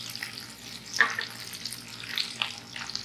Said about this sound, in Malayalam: ഇത് നന്നായി വഴറ്റിയെടുക്കാം.